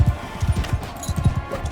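Horse hoofbeats in the video game Mount & Blade 2 Bannerlord, a loud, quick and steady clip-clop of hooves at close range.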